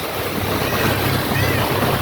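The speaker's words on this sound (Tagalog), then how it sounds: "So malakas pa rin yung tubig, malagas yung agos." A strong river current churns loudly and steadily, mixed with wind buffeting the microphone.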